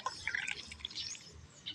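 Water poured into one cylinder of a four-cylinder engine during a valve leak test, giving faint, close trickling and dripping splashes that fade in and out over a low background hum.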